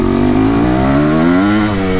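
A Yamaha YZ490 dirt bike engine revs up close, a loud, raspy two-stroke drone whose pitch rises and then wavers, holding high and steady for two seconds with no talk.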